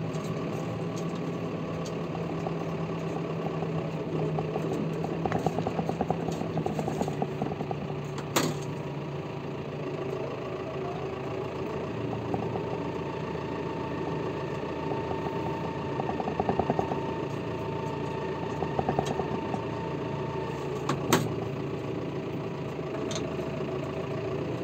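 A John Deere 6120M Premium Edition tractor engine idles steadily at a near, even level for the whole stretch, with a few faint clicks and brief mechanical ticks over the constant hum.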